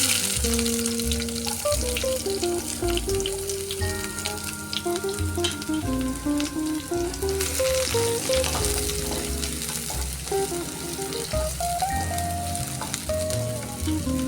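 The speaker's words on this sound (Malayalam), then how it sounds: "കടുക് പൊട്ടിയതിന് ശേഷം ചുവന്നുള്ളി ഇടുക." Shallots fry in hot oil after mustard seeds have popped, for upma, giving a steady, close sizzle that runs throughout beneath louder melodic background music.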